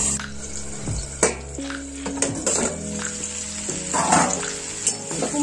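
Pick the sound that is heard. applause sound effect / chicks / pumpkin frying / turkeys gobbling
pumpkin frying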